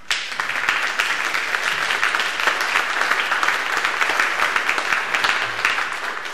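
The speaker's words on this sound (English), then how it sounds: "So maybe we can just thank her by a round of applause." A church congregation applauds during a service, a dense, steady wash of many hands clapping that holds at an even, fairly loud level throughout with no talk over it.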